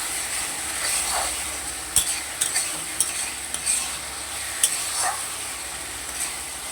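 Fish curry masala being stirred and fried in a pan for a putti fish curry, a steady sizzle under loud scraping spoon strokes that come in scattered clusters, close up and with no talk.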